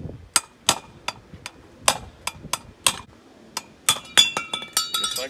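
An aluminum dowel is pounded through a motorcycle exhaust part on an Indian FTR1200, producing a series of sharp metallic clinks and taps, irregular at first, then quickening into rapid strikes near the end, close and alone.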